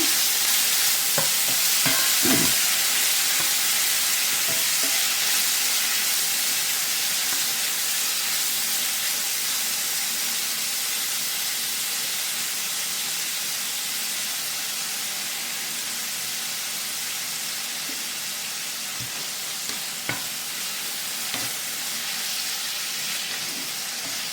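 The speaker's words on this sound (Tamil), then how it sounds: "இந்த மாதிரி லேசாக பொரிச்சு எடுத்துக்கிட்டால் நல்லாயிருக்கும்." Ingredients fry lightly in a pan for a rice noodle dish, a loud, even hiss and sizzle that runs throughout with a few faint stirring knocks and scrapes.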